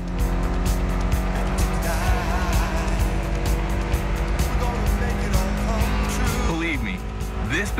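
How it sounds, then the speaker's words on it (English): A Mitsubishi car with a 280-horsepower inline-four engine in The Crew Motorfest video game holds a loud, steady droning engine note throughout, with a brief rising whine and a tire squeal near the end. "Mitsubishi gave us a nice inline four cylinder with already 280 horsepower."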